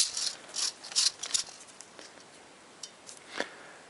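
A metal extended magazine tube being threaded onto a Remington 870 shotgun, heard as close, irregular ratcheting clicks and scrapes that come in bursts and then thin out, with no talking.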